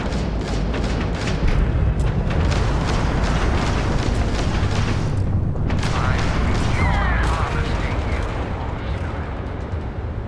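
Rapid booming turret gunfire in the video game Starfield, loud and dense explosive blasts hammering throughout, with a voice talking over it.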